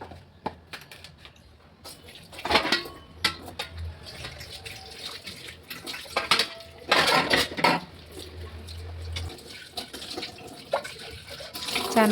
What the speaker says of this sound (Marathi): चला मग आता भांडी घासून घेते